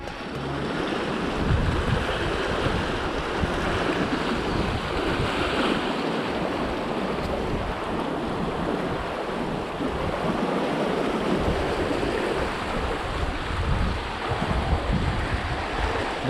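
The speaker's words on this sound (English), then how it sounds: "This noise of river, that's all I want to hear all day long." A river rushing near Devprayag in the Himalayan hills, a loud steady roar of flowing water with wind buffeting the microphone, continuous and close with no talk.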